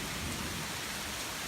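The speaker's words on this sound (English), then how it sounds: "It's full on hailing." Hail and heavy rain pelting down during a sudden thunderstorm, a dense, steady broadband patter with low rumbling underneath, continuous and fairly loud throughout.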